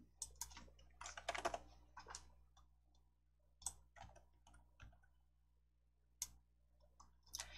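Quiet computer keyboard typing, with irregular clusters of soft key clicks and short pauses between bursts, heard close and alone.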